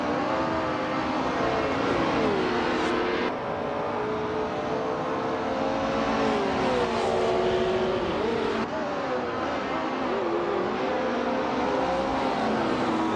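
Race cars roar through a race in a constant dense engine howl, several gliding pitch sweeps as cars pass and shift, loud and unbroken throughout.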